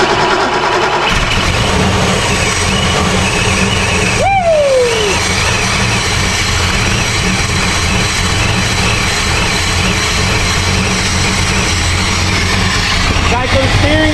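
Supercharged Ford Mustang Foxbody engine cranks and fires into a steady, loud running rumble close by, with people talking over it and a rising whine partway through.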